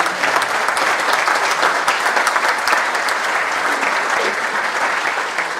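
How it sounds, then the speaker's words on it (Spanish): An audience at an economics presentation applauds Luis Secco, a full, even wash of clapping from many people, loud and unbroken throughout before tapering slightly at the close. "primero un aplauso para Luis por su presentación"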